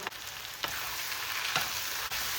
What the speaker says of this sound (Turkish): Yüksek ateşte bir dakikada bir karıştıracağız